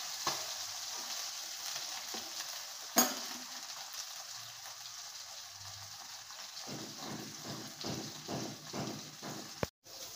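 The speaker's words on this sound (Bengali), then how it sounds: "মাছটা উল্টে নেবো।" Fish frying in oil in a pan, a continuous soft sizzle heard close and alone, with a single scrape as the piece is flipped and crackling that swells afterward.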